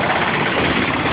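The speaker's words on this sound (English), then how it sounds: "versus a diesel wheelhorse" A diesel Wheel Horse garden tractor engine idles with a steady, dense rumble, close and loud, throughout a brief moment with no talking.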